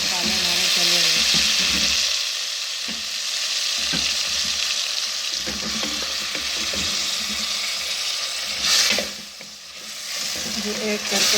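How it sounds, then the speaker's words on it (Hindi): Potatoes fry and sizzle in a pan with spices, stirred now and then so that a spoon scrapes and clinks against the metal, under a steady hiss that runs loud throughout. "आलू हमारे अच्छी तरह भून गए हैं।"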